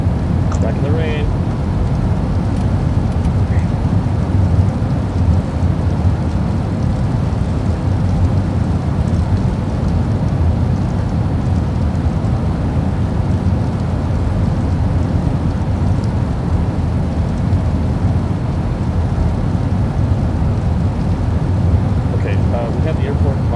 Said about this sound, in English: Back in the rain.